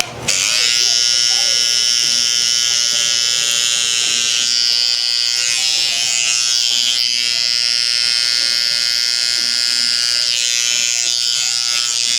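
Electric hair clippers buzz steadily and close while cutting a low fade haircut, a sustained motor whine with slight shifts in pitch as they move, with someone talking over it throughout.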